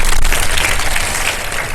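A studio audience at a live iftar television show claps in a dense, loud burst of applause that fades slightly toward the end.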